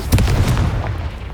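A Confringo blasting spell explodes in Hogwarts Legacy with a loud, close, deep boom followed by a short rumbling tail that fades over about a second.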